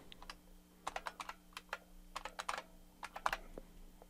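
A root password is typed on a computer keyboard during a Kali Linux install, sounding as quick, uneven bursts of crisp key clicks, close and quiet over a faint steady hum, with no one talking.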